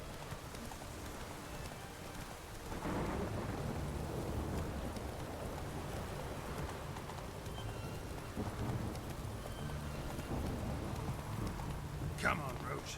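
Hooves of the horse Roach in the game Witcher 3, a steady clip-clop of riding along a road under rain and a low rumble of thunder, with someone talking over the top.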